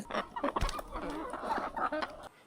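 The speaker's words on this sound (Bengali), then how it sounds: "এই মুরগিটাকে দেখেন কত সুন্দর ঝুটিওয়ালা মোরগ" Clucking from a crested desi rooster, a close run of short, throaty calls over about two seconds, fairly loud and busy.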